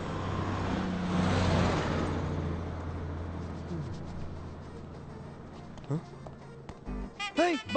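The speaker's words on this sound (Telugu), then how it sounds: "శుభ, శుభ, శుభ, శుభ, బస్సు వెళ్ళిపోయింది" A bus pulls away from a stop, its broad engine rumble swelling early and then fading into the distance, followed by voices calling out.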